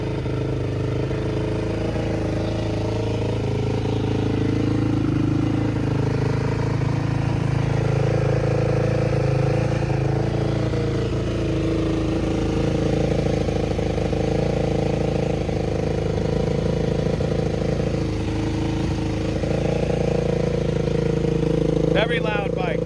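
A 2004 Yamaha YZ450F dirt bike engine idles steadily on choke in cold weather, a loud continuous rumble running throughout with someone talking over it.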